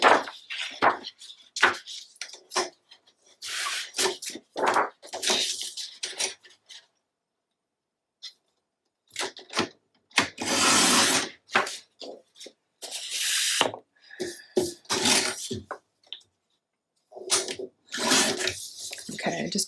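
A paper trimmer or scissors slices a piece of red scrapbook paper, giving a series of short, close, crisp cutting and sliding strokes separated by brief pauses.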